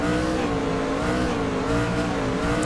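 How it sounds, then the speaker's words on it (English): A race car idling on the grid in an ANZCAR racing game at Phoenix, the motor blipped on and off the throttle in a steady, buzzy drone with slight rises and dips, loud and continuous. "you can just hear him revving the motor on and off the throttle"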